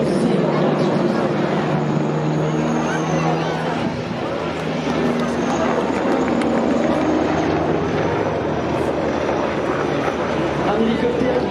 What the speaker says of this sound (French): Un hélicoptère qui, dans certaines configurations, peut faire de la voltige